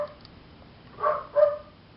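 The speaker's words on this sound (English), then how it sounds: "Sorry if you hear barking in the background, it's my dog." A pet dog gives two short barks in the background of a quiet indoor room, faint and somewhat distant, with silence around them.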